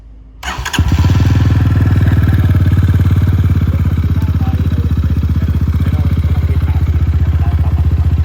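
A Rusi 250i scooter engine cranks and catches within a second, then settles into a loud, close, steady idle with a low throbbing pulse for the rest of the clip.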